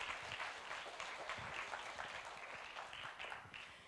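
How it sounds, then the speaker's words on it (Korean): A university lecture audience welcomes a professor with faint, scattered clapping that thins out gradually over a few seconds. "큰 박수로 맞이하도록 하겠습니다"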